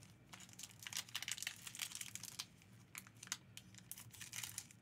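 A Commander Legends trading card booster pack wrapper is torn open in faint, close crinkling and ripping bursts that keep on through the stretch, with no talk.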